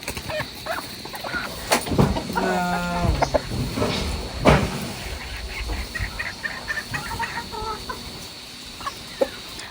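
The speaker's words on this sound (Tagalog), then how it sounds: "Si Papa po ay nagpapakain na ng mga alagang manok." Pet chickens cluck and squawk nearby while being fed at a Filipino home during an evening pork barbecue cookout, with a burst of rapid calls early on and scattered clucks throughout.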